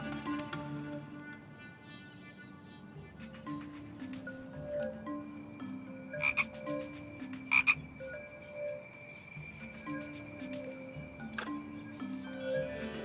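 A frog croaks repeatedly in a fantasy TV series scene, with short throaty calls set against a steady musical background and no talking.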